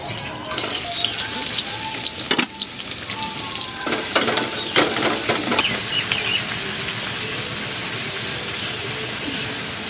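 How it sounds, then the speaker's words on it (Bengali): Chopped onions fry in hot oil at an outdoor New Year's picnic cookout, with a steady close crackling sizzle and a few scraping stirs and clinks through the middle. "এখন পেঁয়াজগুলো ভেজে নেব, আর একটু তেল দিয়ে দিলাম।"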